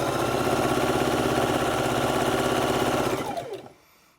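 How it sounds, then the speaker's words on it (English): A sewing machine stitches log cabin quilt strips in a steady, close, continuous whir for about three seconds, then winds down and stops. "start sewing on our strips"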